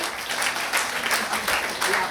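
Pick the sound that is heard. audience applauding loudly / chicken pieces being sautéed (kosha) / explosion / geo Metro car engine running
audience applauding loudly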